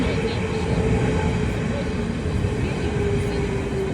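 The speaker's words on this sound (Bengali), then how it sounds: "এই যে একটি ট্রেন যাচ্ছে আমার পাশে" A train passes close by at a station platform in Germany in summer, a steady broad rumble of wheels and carriages holding evenly throughout with no voices over it.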